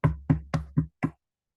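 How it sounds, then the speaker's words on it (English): Five firm knocks on a door, four in a quick, even rhythm and a fifth after a slight pause, close and clear with nothing else heard. "She knocks on the door,"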